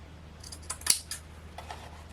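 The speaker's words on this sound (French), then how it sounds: "Je vais en couper un tout petit morceau" Scissors snip a small piece of white jute for a handmade craft gift, giving a few quick, close, crisp cuts with light rustling of the material and no talking.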